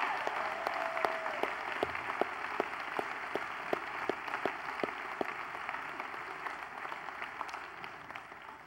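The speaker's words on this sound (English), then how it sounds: "So let's give these workers a big round of applause and thank them today." A church congregation applauds steadily for workers, a dense sustained clapping that fills the room at even loudness throughout with no talk over it.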